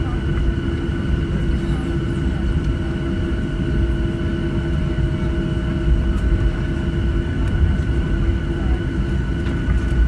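Steady, loud airplane cabin drone aboard a Southwest flight from Kansas City to Chicago Midway during departure, a continuous broadband rumble with faint steady tones, unbroken for the whole stretch.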